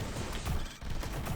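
Rapid explosions blast through a boss fight in the video game NeuroVoider, a dense, continuous barrage of loud crackling bursts with a brief dip partway through.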